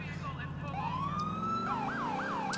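Police car siren from the video game GTA IV with the LCPDFR mod, a loud close wail rising in a long sweep and then breaking into quick repeated yelps over a low engine drone.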